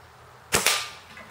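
A pellet gun fires a single sharp shot outdoors, a close, loud crack with a quick second impact right after, then a short fading tail.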